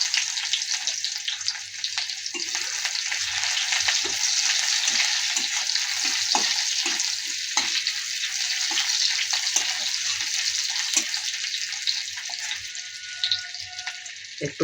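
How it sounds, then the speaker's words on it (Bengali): Onions sizzling and frying in oil left over from frying fish for a Bengali bata fish dish, a steady close hiss with occasional stirring clicks throughout. "এই যে এখন আমরা পেঁয়াজগুলো দিচ্ছি।"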